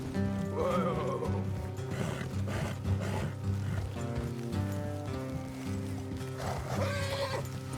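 Horses in Red Dead Redemption 2 snorting and whinnying, with clip-clop hooves under layered game music, moderately loud and steady.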